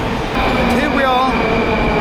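A Moscow metro train runs at Arbatskaya station, a loud, constant rumble with a faint high squeal from the wheels, and a voice talks over the noise.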